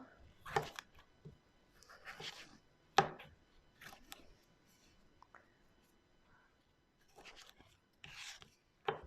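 Knife chopping tomatoes into large chunks, a handful of sharp, separate cuts spread out with pauses between them, close and fairly quiet.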